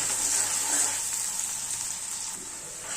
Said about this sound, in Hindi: प्याज को हम गुलाबी होने तक भुनेंगे।